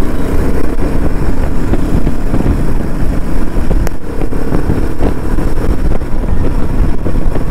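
Royal Enfield Himalayan 450 motorcycle riding through city traffic, its steady engine drone mixed with heavy wind rush on the microphone, loud and continuous throughout.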